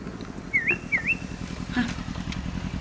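A motorcycle engine idles steadily with a low, rhythmic pulsing. Brief chirping whistles sound over it, and a voice is heard nearby.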